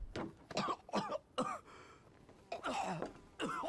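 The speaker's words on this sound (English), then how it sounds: "Can you stop coughing, please? You're going to attract bad people." Coughing by a sick character in the horror video game The Evil Within; a run of throaty coughs and hacking bursts in irregular clusters, fairly quiet.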